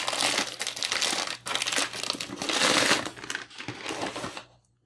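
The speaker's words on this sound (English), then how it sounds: "We're just going to rip this off and slide the box out." Wrapping ripped off a Brick by Brick puzzle box, then the box slid out: continuous loud crinkling and tearing of plastic film up close, with brief pauses before a final scrape and quiet end.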